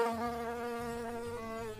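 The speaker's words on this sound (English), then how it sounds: "3 buzzing bees." A steady, close insect buzz drones without pause, a sustained nasal hum like bees or flies hovering nearby.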